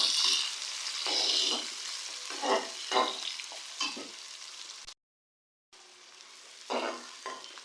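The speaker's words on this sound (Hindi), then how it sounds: "प्याज को जो है हम लोग गोल्डन कलर आने तक फ्राई करेंगे।" Onion sizzles in hot ghee in a pan, a close, crackling fry that swells with each stir, broken by a brief silence partway through.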